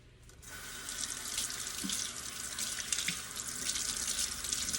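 Tap water runs steadily into a kitchen sink as a New York steak is rinsed under it, a continuous close splash with faint knocks of the meat and hands in the stream.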